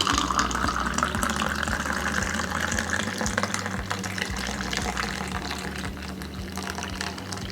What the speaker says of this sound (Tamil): இப்போ நம்ம இதை எடுத்து வேறு கப்பில் ஊற்றிக்கலாம்.